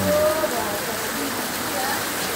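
Steady rain falling as a continuous hiss with faint water-like wash throughout, no distinct drops standing out, in a sector during a rainy weather condition.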